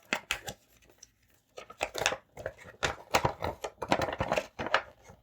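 Plastic and cardboard packaging of a Marvel Champions Quicksilver hero pack being opened, with close irregular bursts of tearing, crinkling and snipping separated by short pauses.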